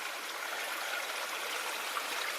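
A mountainside stream trickles and splashes steadily in the wilderness, a bright, even rush of running water close by with no voices.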